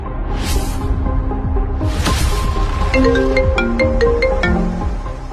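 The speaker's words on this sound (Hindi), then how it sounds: "वो पापा का फोन है। वो बंद कर इनका।" A phone ringtone plays loudly and alone, a bright repeating electronic melody with short tonal notes, unbroken for several seconds.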